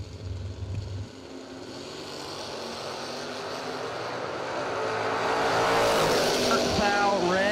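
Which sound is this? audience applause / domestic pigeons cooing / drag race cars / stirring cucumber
drag race cars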